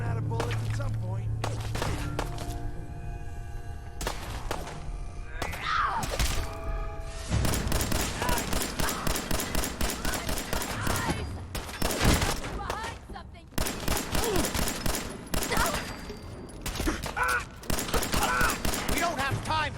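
Dense bursts of gunfire in the video game Fallout 4, rapid repeated shots and volleys that dominate the second half, mixed with thuds and other combat noise.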